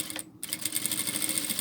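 A sewing machine stitches strips of fabric in a rapid, close, steady mechanical chatter, briefly pausing near the start before resuming its even rhythm; no voices.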